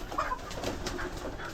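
Pigeons at a breeder's loft in Bangladesh give soft, murmuring coos, close and continuous over a low outdoor background with no voices.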